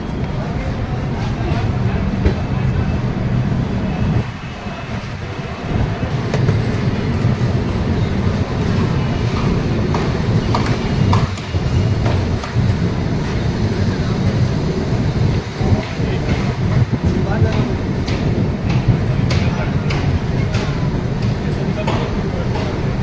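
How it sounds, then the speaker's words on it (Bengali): The Howrah-Agra train pulls out of Chitrakoot Dham Karwi station with a steady, loud rumble and rattle of carriages, and clanks and bumps run through it. "ধীরে ধীরে আমরা চিত্রকূট ধাম কাটবি রেলওয়ে স্টেশন থেকে বেরিয়ে যাচ্ছি।"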